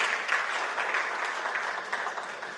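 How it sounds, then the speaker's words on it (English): Applause at a formal event for a Minister of Information and Civic Education, a dense steady clapping from a crowd that holds throughout and fades slightly at the end. "Can we please give a round of applause?"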